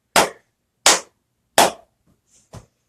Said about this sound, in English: So right now they're hearing me clap.